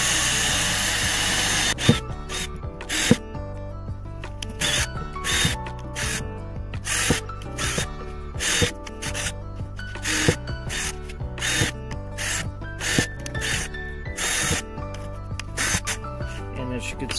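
Drill boring extra drainage holes into a plant pot for an avocado tree, with repeated short bursts of whirring and grinding separated by brief pauses, close and fairly loud.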